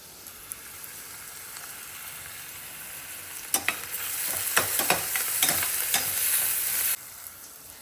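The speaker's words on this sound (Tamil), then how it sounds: "வெங்காயத்தை போட்டு நல்லா வதக்கியாச்சு." Onions fry in a pan as turmeric and salt go in for a chole masala, a steady close sizzle that swells midway with a run of sharp scraping stirs, then settles back to a quieter hiss.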